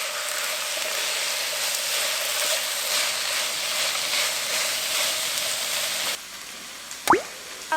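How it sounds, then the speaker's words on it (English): Chopped kimchi and potato hash sizzling in a frying pan, a steady broadband hiss with faint crackles for about six seconds, then the frying drops away and a short clatter or scrape follows near the end. "We're gonna add in our chopped kimchi and cook it down until the kimchi is browned on the outside."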